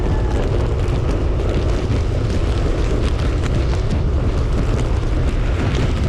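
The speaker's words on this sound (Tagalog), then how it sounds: "Umuulan na naman. Yan na." Heavy rain pours down steadily on a street where tricycles are parked, a loud continuous broadband roar with no break or voices over the whole stretch.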